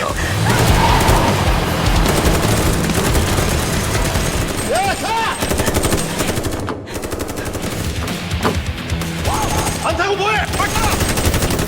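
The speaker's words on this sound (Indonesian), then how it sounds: "peluru yang ditembaki oleh Jinchol adalah peluru hampa" Film gunfire with blank rounds rattles in rapid machine-gun bursts and scattered shots, loud and close, with shouting voices and other action noise mixed in between the volleys.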